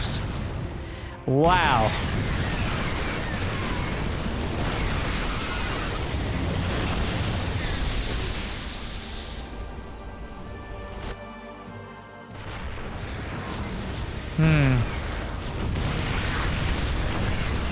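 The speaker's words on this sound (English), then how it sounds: "How many siege tanks? 20 siege tanks!" Dense, continuous battle noise from a huge mass of about twenty siege tanks firing in a StarCraft 2 GSL 2023 finals match, with heavy booming blasts layered throughout and excited commentary running over it.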